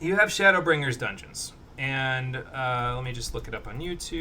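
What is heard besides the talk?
No everyday noise stands out behind the speech.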